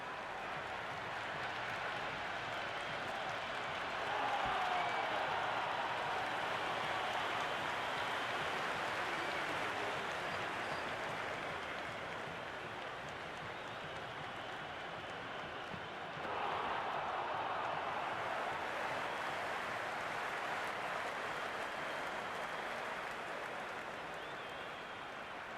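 Crowd noise fills a cricket stadium during a T20 match between Sri Lanka and the West Indies, a steady distant roar that swells briefly, heard without any commentary over it.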